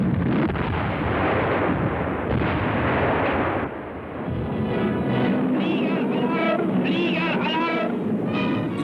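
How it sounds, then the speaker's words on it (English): WWII German 20mm and 88mm flak anti-aircraft guns firing a heavy barrage against a Soviet air attack: loud, dense, overlapping booms and rapid bursts that rumble continuously throughout. "20mm and 88mm flak guns provide a heavy barrage"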